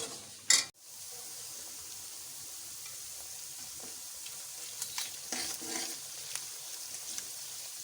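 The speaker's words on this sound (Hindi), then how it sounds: "इन मसालों को हमने डाल दिया है और अब आहिस्ता आहिस्ता हम इसको स्टर कर लेंगे।" Onions frying with whole cumin, cloves, bay leaf, mace and cinnamon: a sharp clatter as the spices go in, then a quiet sizzle with occasional scraping as the pan is slowly stirred.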